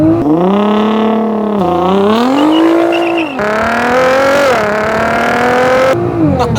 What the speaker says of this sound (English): There are few things that launch harder than a GTR.